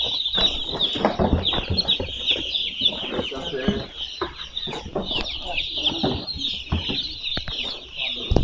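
Newly delivered chicks in a crate on a poultry farm in Côte d'Ivoire, a constant high chorus of shrill peeping close by, with rustling and scuffling beneath it.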